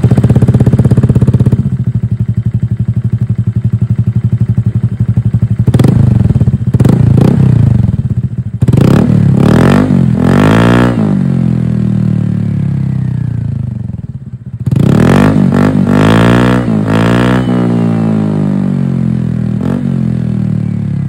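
A motorcycle fitted with an Akrapovic exhaust idles loudly and close by, then blips its throttle in several sharp revs, with two long rising and falling revs in the middle and near the end.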